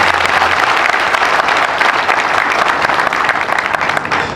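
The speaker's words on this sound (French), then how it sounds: "Je vous demande d'applaudir un peu fort pour nos femmes." A crowd at a community event in Mali applauds in a dense, steady burst of clapping that stays loud and continuous for several seconds.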